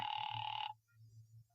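Old-fashioned telephone bell ringing in a vintage radio drama, one loud sustained ring that stops abruptly, leaving a low hum.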